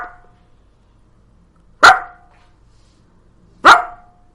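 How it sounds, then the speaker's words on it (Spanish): A dog barks for attention, giving three sharp, loud, close single barks evenly spaced about two seconds apart, with quiet between them and no talking. "esto es un ladrido por reclamo de atención."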